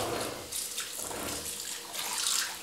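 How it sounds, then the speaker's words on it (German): Water runs steadily from a tap into a granite kitchen sink as it is rinsed, a close, continuous splashing rush with no talking. "Anschließend alles gut abspülen."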